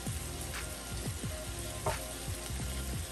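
Home fries frying in a nonstick pan, a steady loud sizzle with crackling pops and occasional scraping stir sounds, close and continuous with no talk.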